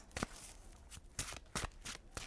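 A deck of cards riffle-shuffled about five times in quick, crisp bursts, close by and fairly quiet.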